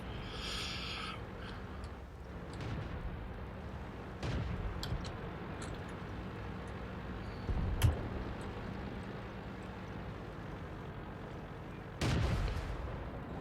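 Tank cannon shots in the World of Tanks game, a few sharp booming reports spaced several seconds apart over a low rumbling battlefield background.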